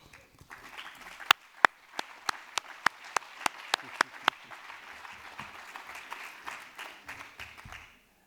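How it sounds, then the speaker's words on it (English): Conference audience applauding at a closing session: scattered clapping that builds, with a run of sharp, loud, evenly spaced claps from one nearby person standing out over softer crowd applause that then fades away. "please, a big, extra big round of applause for this man, Albert Salmon."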